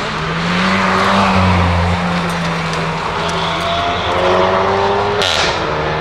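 Race car at speed on the Le Castellet circuit during a track day, a loud close engine roar with shifting pitch and a brief tire squeal, no voices over it.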